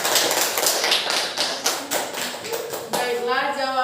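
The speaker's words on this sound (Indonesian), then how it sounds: "Kita beri aplaus terlebih dahulu" Classroom applause for a student group, a short burst of clapping from a small crowd mixed with voices, fading into speech at the end.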